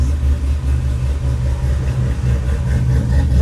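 A Corvette with 196,655 miles idles while warming up, a steady, close, low rumbling engine drone with a slight uneven lope and no talking.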